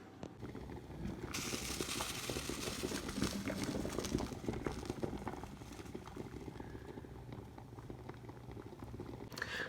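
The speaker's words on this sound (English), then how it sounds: "So I'm gonna actually turn my water down a little bit so it's not boiling quite so hard." Water boils hard in a pot on the stove, heating a tin can of beeswax to melt; a dense, steady bubbling and rumbling roil runs throughout, close and continuous with no talk.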